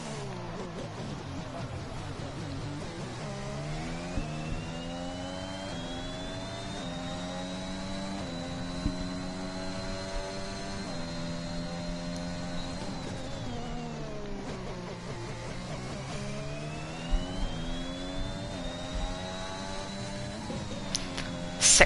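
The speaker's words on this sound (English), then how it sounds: "I'll let you listen to the engine sounds." A Honda Formula 1 engine from an F1 video game screams at high revs, rising through the gears with clear whine, dropping on braking and climbing again, loud and continuous with no talk.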